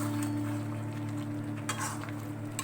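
Chicken pieces and potatoes being stirred with spices in a hot pan, a steady low sizzle with occasional scraping strokes of a spoon, close and alone with no talking.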